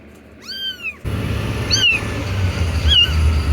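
Rescued kittens from a found litter of twelve, on their way to an animal shelter, give three close, clear, high meows spaced about a second apart; the last two sound over a steady low rumble, with no talking.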